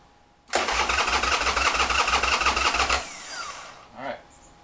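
A Buell Cyclone motorcycle in rough condition cranks and catches, its engine chugging in a steady rhythm for a few seconds before cutting out, loud and close.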